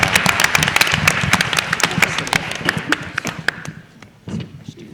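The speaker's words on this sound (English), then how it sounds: "let's have a big round of applause for all 10 teams and all of their coaches." Audience applause for ten competing teams and their coaches at an academic tournament championship, with clapping mixed with a voice talking over it, then tapering off near the end.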